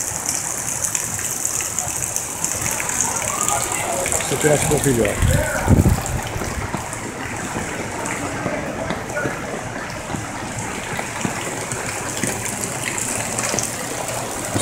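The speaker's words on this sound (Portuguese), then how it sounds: "isso aqui é água saindo dentro das casas" Floodwater gushes steadily out of houses during street flooding in Jardim Bonfiglioli, a constant rushing wash of water close by, while someone talks over it.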